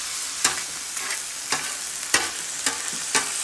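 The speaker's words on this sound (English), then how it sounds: "you're gonna brown the ground beef" Ground beef browning in a frying pan, a constant loud sizzle broken by regular sharp clicks of a utensil stirring and breaking up the meat, with no talking.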